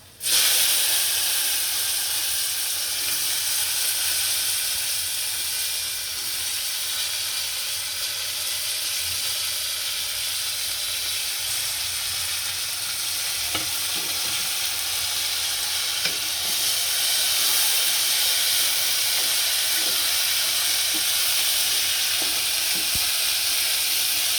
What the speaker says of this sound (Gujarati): હવે ગુવાર નાખી અને કકડવા દઈશું થોડું